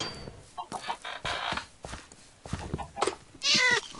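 Clucking chicken calls from a Minecraft mob, a few short bursts spread across the clip, mixed with game clatter and a brief scratchy sound near the end.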